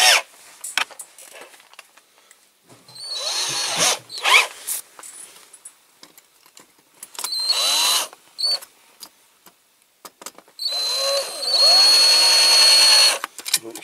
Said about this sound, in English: I'll have to drill them a little bit. A little bit. With a smaller drill bit.